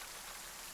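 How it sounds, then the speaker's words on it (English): Steady rain ambience plays beneath a Curse of Strahd tabletop role-playing session, an even, constant hiss of falling rain with no voices over it. "It's still raining"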